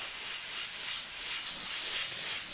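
An airbrush sprays paint while detailing a Rancor monster model, giving a steady, close, breathy hiss of air that holds without a break for the whole stretch, with no voices over it.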